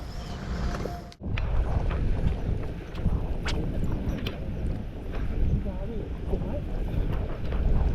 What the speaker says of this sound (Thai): ลมแรงว่ะ